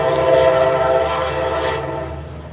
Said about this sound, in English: The train. You hear it?